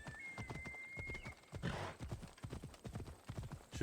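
Horse hooves gallop in a rapid, even clip-clop rhythm in Assassin's Creed Odyssey, joined by a brief whoosh partway through and a faint steady tone.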